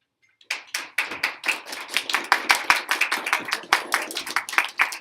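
Students applaud in a classroom, sharp uneven hand claps that start sparse and quickly build into a dense, lively round of clapping close by.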